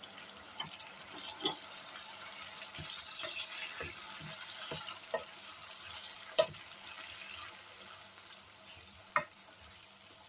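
Steady sizzling of chopped tomatoes frying with sausage in a pan, with occasional clicks and scrapes of stirring, no voices.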